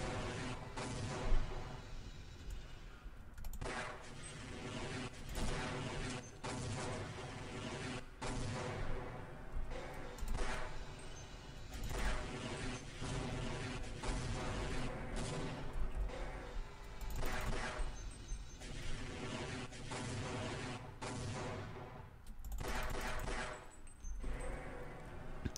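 Rocket sentry artillery and gunfire in Half-Life, a dense, continuous barrage of booming blasts and crashes under a steady rumbling game soundtrack for the whole stretch.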